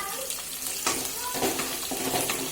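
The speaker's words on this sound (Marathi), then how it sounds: "त्यात अद्रक पण टाकून घेऊ। अशा लसूण, मिरची टाकून घेऊ आणि सोबतच कढीपत्ता पण।" Ginger, garlic, green chilies and curry leaves sizzling in hot oil with cumin for Khandeshi brinjal bharit, a steady close crackle broken by a few louder spatter bursts as ingredients drop in.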